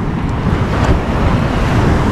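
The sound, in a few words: sea waves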